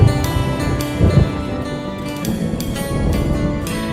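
Storm thunder rumbles low and heavy beneath a country song, with the music's instruments mixed into a steady rolling boom.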